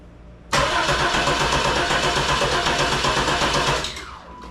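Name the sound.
third-generation Chevrolet Camaro engine cranking over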